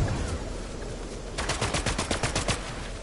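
Rapid bursts of gunfire in a battle royale video game, a steady background of distant shots giving way to a louder run of repeated, evenly spaced cracks in the second half.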